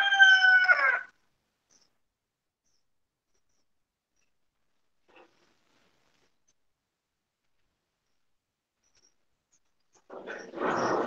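A rooster crows in a brief burst at the very start, then falls silent. A short, rougher animal call comes in at the end.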